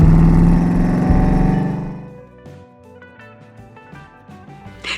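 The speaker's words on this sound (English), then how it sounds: "a rumble on screen that would make almost any mythical creature quiver with fear at just the mere sound of its roaring V8 engine approaching" A Dodge V8 engine gives a loud, deep roar that fades away over about two seconds, leaving quieter scattered mechanical sounds.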